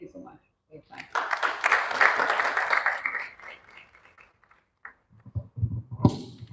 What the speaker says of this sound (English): Hayo ni makofi ya kichoyo.